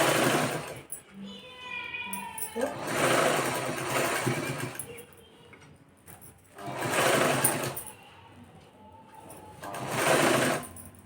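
Sewing machine stitching folded saree pleats, running in several separate bursts of fast whirring with pauses in between, close by, with someone talking over and between the runs.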